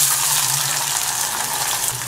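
Large-cut onion pieces frying in sesame oil for a Tamil mushroom dish, giving a loud, steady hiss and sizzle close by with no talking.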